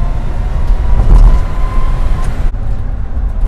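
An electric dual-motor Volkswagen Double Cab pickup accelerates during a traction control test. Loud, steady road and drivetrain rumble carries a faint rising motor whine, then drops off abruptly near the end.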